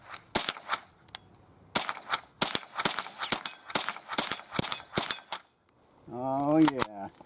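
A .22 rifle, Ruger or Marlin, fires a rapid string of sharp cracks in an uneven rhythm, some close together, with brief pauses between; a person talks briefly near the end.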